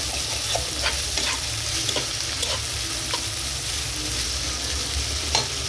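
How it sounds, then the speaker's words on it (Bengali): Onions, carrots and beans fry in a pan for fried rice, a loud, close, continuous sizzle with occasional stirring scrapes and clicks throughout, no voices. "কিছু পেঁয়াজ, গাজর আর হচ্ছে বটবটি ভেজে নিচ্ছি ফ্রাইড রাইসের জন্য"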